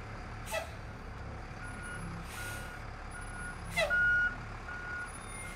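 A big truck reversing in a game scene, with a few spaced electronic beeps over a steady low engine drone and a short hiss of air brakes near the end.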